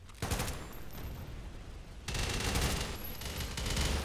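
Sustained automatic gunfire in the top-down shooter Synthetik 2, loud rapid bursts that ease off for a moment and then surge back harder, with no talking over them.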